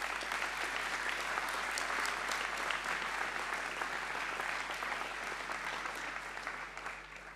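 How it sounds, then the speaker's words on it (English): Audience applause fills a school speech day hall: sustained, even clapping from a large crowd, heard at a moderate distance, thinning slightly toward the end. "Round of applause."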